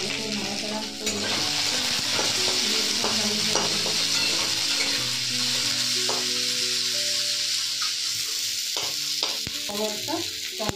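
Raisins and green chillies sizzling in hot oil in a pan, a steady bright fry with intermittent scraping and clinks of a spoon stirring against the metal, close and continuous with no talking.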